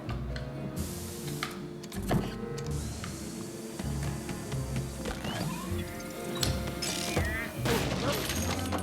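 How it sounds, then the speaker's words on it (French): A chest is opened in the video game Luigi's Mansion 3, giving a rattling mechanical clatter of creaks and clicks over busy game music and ambience, with someone talking at moments. "on va essayer d'ouvrir ce coffre là"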